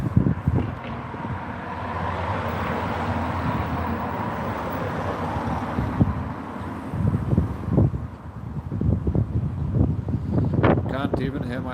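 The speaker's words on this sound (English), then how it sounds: "It's so windy." Strong wind blows outdoors as a constant broadband roar buffeting the microphone for the whole stretch, with a person talking over it in the later part.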